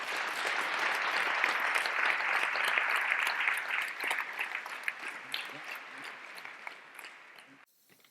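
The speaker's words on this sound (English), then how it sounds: "we should give a big round of applause to Enabling Robotics" Applause from an audience at a euRobotics awards ceremony, a steady broadband patter of many hands clapping that thins and fades out near the end.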